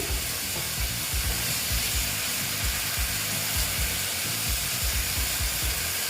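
Small fish masala sautéing in a pan gives a steady, even sizzle with faint scraping under it, close and moderately loud throughout.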